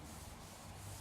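Softwood is sanded by hand with a continuous, even rubbing scrape, close and quiet, with no voices over it.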